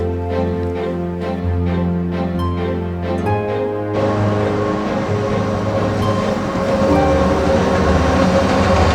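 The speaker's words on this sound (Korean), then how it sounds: "기차로 이렇게 올라오는 것 같습니다." A rack railway train climbing the steep Montserrat mountain near Barcelona, a loud droning rumble with tonal mechanical hum that swells into heavier, noisier clatter as it draws close.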